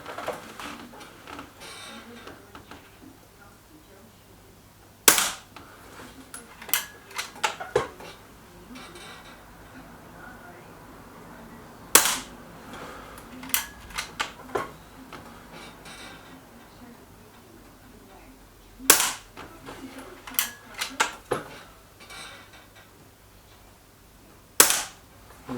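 A Weihrauch HW100 KT air rifle firing sharp, snappy shots at irregular intervals, several widely spaced, against a quiet background with faint handling clicks in between.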